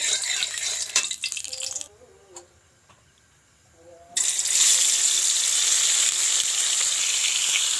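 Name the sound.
tilapia fish frying in oil in a pan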